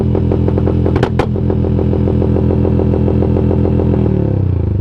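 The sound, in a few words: Aracer RC Mini X engine sound module with backfire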